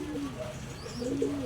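Racing pigeons in a loft coo in low, continuous throaty warbles over a steady background hum, close by, with no talking.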